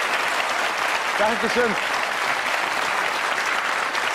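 Studio audience applause at a 1982 German TV entertainment show, a steady dense wash of clapping filling the whole clip, with a brief spoken thanks rising over it.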